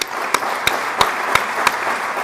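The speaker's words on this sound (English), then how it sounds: "Let's give them a round of applause to them, please." Audience applause at an athletic hall of fame event, a steady wash of many hands clapping throughout with a few louder individual claps standing out at regular intervals.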